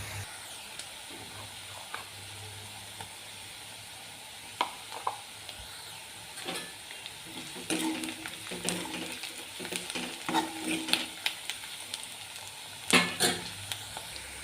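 Onion frying in a pan with turmeric, red chilli and salt added, a soft steady sizzle with scattered stirring scrapes and clinks growing busier toward the end.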